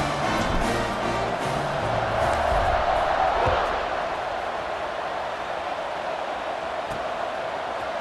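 A stadium crowd in the College Football 26 video game roars in a steady, dense wash of cheering that eases slightly partway through.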